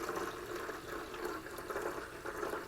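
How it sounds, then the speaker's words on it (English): Water runs and splashes from a wet tile saw during floor tiling, a continuous quiet gushing trickle with no voices. "it spills out, and it spills water like crazy, so I'm not going to try and keep it dry"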